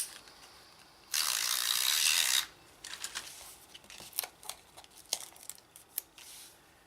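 Snail adhesive tape runner applied for a paper craft basket: a brief rasping ratchet burst, then scattered faint clicks and taps; close and quiet, no talking.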